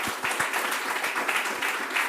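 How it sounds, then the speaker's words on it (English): Audience applause for panellists at a retail innovation panel discussion, a steady round of many hands clapping with rhythmic pulses, moderately close and heard alone. "Just a big round of applause for our panellists."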